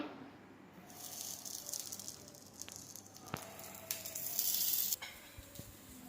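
Plantain cutlets sizzle on a hot dosa griddle, a steady close frying hiss that swells louder toward the end, with a few sharp crackles and spatters and no talking.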